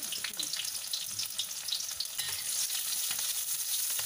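Onions frying in a pan for a Rungus-style dish, a bright, dense, crackling sizzle that holds steady and grows slightly fuller toward the end, with no voices.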